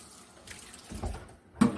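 Tap water runs over homemade raw cow's-milk butter as the buttermilk rinses out, a brief soft splashing with a louder gush near the end.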